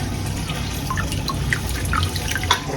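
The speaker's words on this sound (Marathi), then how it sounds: "पाणी काढायला लागेल." Water drains from soaked lentils being prepared for dal vajri, a soft close trickle and splash with irregular drips running continuously for a few seconds.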